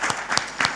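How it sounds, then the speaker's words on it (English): Delegates at a felicitation event give a brief burst of clapping in a couple of pulses, a short round of applause heard close and moderately loud. "requesting all the delegates to put a huge round of applause and standing ovation for"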